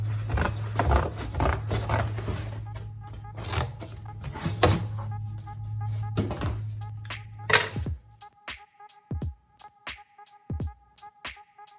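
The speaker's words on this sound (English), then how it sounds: "I've got some spare sheet aluminum, so we're gonna cut some stuff up" Snips cut spare sheet aluminum for a 1995 Honda Civic fuse box bracket, a series of crisp, irregular snipping crunches up close over a low hum, followed by a few lighter metallic clicks and taps.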